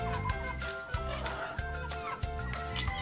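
Backyard native chickens and turkeys a little over two months old, with young chicks nearby, clucking and gobbling in a busy flock chorus, with sharper individual calls breaking through at close range.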